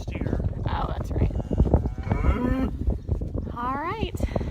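Cattle on a farm low several times at close range, a few drawn-out moos rising and falling, mixed with wind and background speech.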